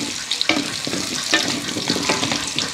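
Sweet potato pieces fry in hot oil in a pan for shrimp curry, giving a steady, loud sizzle broken by sharp crackles and stirring clatter, close up.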